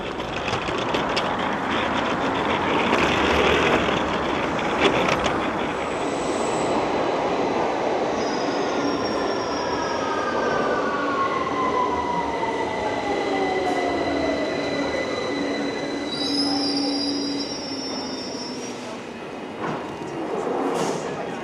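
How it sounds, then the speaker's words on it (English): A London Underground Victoria Line train rumbles steadily along the track, with high metallic wheel squeals rising and fading as it runs. No voices. "is a Victoria Line train to Walthamstow Central"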